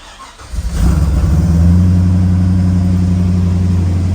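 A 5-litre Holden VT Clubsport V8 with its rear muffler removed and only the two middle mufflers fitted cranks and fires, then settles into a loud, steady, deep rumbling idle close by with no talk.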